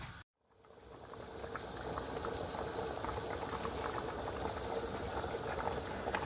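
A kilo of rice comes to a boil in a pot of water for dum pukht pulao. After a brief silent cut, a steady, rolling bubbling swells and holds at an even, fairly loud level with no talk.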